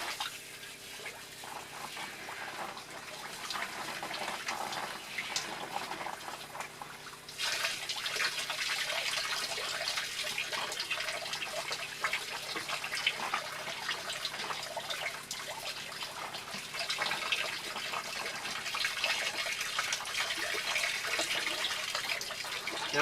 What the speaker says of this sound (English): Water coming on.